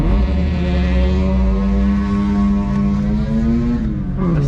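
A BMW E46 engine wails loudly and close while drifting, holding a high, steady revving tone that climbs slowly, then drops off and dips as the throttle lifts near the end.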